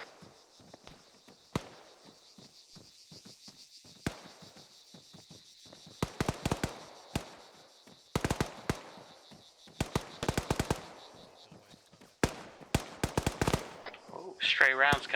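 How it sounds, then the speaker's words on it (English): Stray gunfire in a military video game, sharp cracks and short bursts of rounds, some distant and some closer, scattered irregularly with quieter gaps between them. "Oh, stray rounds coming our way."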